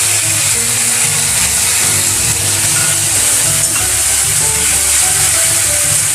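Mustard seeds, garlic cloves, ginger and two dry red chillies sizzle loudly and steadily in hot oil, a dense continuous frying hiss with no talking.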